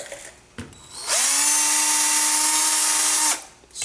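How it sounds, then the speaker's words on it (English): A power drill drills out holes on a Bruder RC bulldozer model, spinning up and running at a steady high whine for about two seconds, close by, then winding down. "So we want to drill these out"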